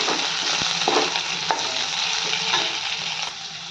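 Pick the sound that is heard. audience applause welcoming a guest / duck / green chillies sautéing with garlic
green chillies sautéing with garlic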